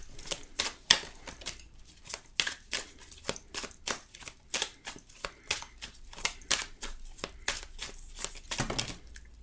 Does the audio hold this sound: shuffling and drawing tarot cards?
yes